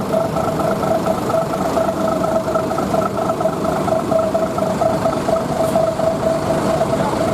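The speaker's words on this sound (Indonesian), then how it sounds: "knalpot sumber alam sos banget teman-teman suaranya" An older-bodied intercity bus in black-and-yellow livery idles with a loud aftermarket exhaust, a steady droning engine hum with a tonal whine, constant and close throughout with no talk over it.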